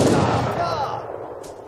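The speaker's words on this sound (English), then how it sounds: "Let's make sure those cannons fire on them and take them all out." Cannons fire in Age of Empires III, a loud booming blast that opens the moment and decays into a rolling rumble, with a voice talking over it.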